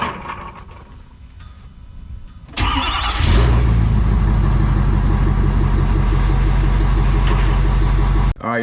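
A Powerstroke diesel truck engine cranks and fires after a fuel filter service, then settles into a loud, steady, clattering idle that runs on and cuts off abruptly near the end.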